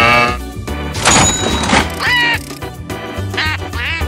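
Cartoon duck from the Pocoyo animated series quacking in several short nasal bursts over a bright children's music bed, loud and close, with no talk.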